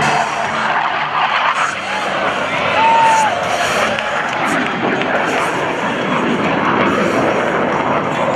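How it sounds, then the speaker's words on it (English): Roaring jet noise from US Navy Blue Angels F/A-18 fighters flying inverted-roll maneuvers at an Air National Guard open house airshow, a steady broad rumble throughout with an announcer's voice over it. "this time to demonstrate the inverted flight capabilities of these FA-18s"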